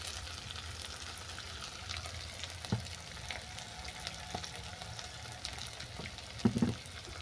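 Ginger garlic paste and spices frying in a pan with a soft, continuous sizzle, punctuated by a few faint scrapes and light knocks of a utensil.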